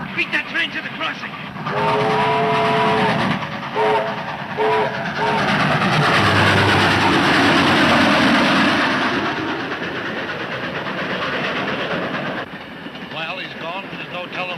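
A train rumbles past close by with a sounding horn and rolling wheel clatter that swells and then fades, with voices briefly heard.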